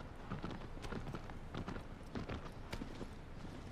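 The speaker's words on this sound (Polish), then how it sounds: "ten koń tak chodzi wolniej niż ten główny bohater" Horse hooves walking at a slow, steady pace in Shadow of the Colossus, a run of clip-clop footfalls set close against constant ambient noise, with no voices.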